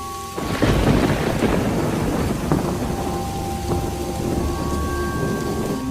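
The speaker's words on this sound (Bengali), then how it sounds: "বৃষ্টিও পড়ছে।" Steady rain pours down while deep thunder rumbles and rolls through, loud and continuous from start to finish.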